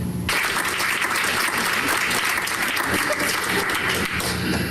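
A crowd at a city council meeting claps steadily and loudly for several seconds after a vote, dense continuous applause filling the room.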